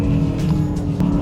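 An Aston Martin DBX S SUV is driving at speed, heard from inside as a steady, fairly loud engine and road roar in a brief burst.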